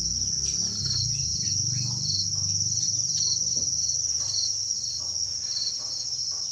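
Crickets on an Indonesian cricket farm chirp in a dense, continuous shrill trill that runs throughout, with faint low rumbling and scattered clicks beneath.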